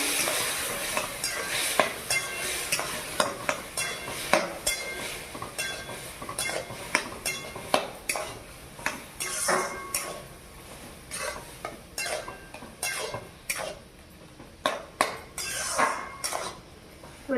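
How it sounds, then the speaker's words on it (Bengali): Taro stem chutney being stirred in a pan with mustard paste and soaked tamarind, giving repeated scraping and clinking spoon strokes over a soft sizzle of frying that carry on steadily throughout. "আর সরষে বাটা এবারে নেড়ে নেব এবার"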